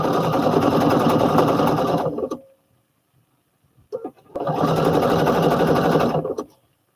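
A sewing machine runs a hem in two loud, steady bursts of about two seconds each, split by a short quiet pause with a few small clicks.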